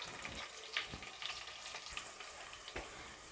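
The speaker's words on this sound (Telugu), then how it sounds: "మొత్తం ఆనియన్ పేస్ట్ మొత్తం వేసేస్తున్నాను" Onion paste for chicken curry fries in a little oil, giving a soft, steady sizzle with a few faint clicks of stirring, quiet and close throughout.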